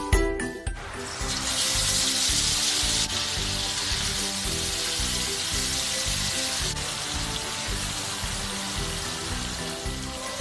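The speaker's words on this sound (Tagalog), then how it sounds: "ready for frying na ang mga pork chop" Pork chops frying in a pan: a clatter at the start as they go in, then a loud, continuous watery sizzle that holds steady to the end.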